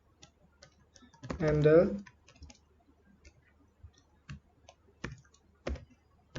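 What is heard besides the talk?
typing on a computer keyboard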